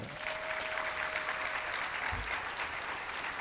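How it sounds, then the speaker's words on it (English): A crowd at an industry-academia career forum applauds the platinum sponsors with steady, dense clapping at moderate volume. No one speaks over it. "please, let the round of applause be huge"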